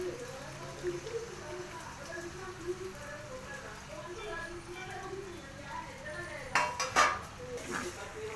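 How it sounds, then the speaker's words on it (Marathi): A spoon scrapes and clinks in a pan while stirring a sabudana, potato and crushed peanut mixture, with soft, irregular taps and a few louder clatters near the end. "हे सगळं व्यवस्थित मिक्स करून घ्यायचं"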